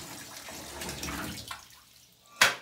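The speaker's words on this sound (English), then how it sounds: "we just open one side of this, and then we can pour that into our container" Water is poured from a water sampler into a container, a steady splashing trickle that tapers off, followed by a sharp clack near the end, close and fairly quiet.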